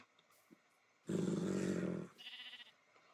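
Sheep bleating in the Minecraft video game: one loud, sustained bleat of about a second, then a shorter, quieter bleat, with faint scattered game sounds around them.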